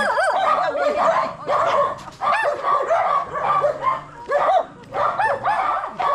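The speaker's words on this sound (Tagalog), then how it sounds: "iba't ibang klase na ng aso, oh" Several dogs bark and yip in overlapping bursts, some high-pitched and whimpering, fairly close and loud throughout.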